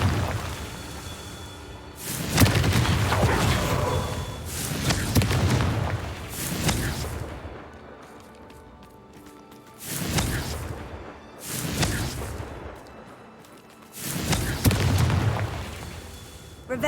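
Confringo explosion spells cast in the video game Hogwarts Legacy: a series of booming, whooshing blasts in separate bursts over a steady game ambience, loud and close.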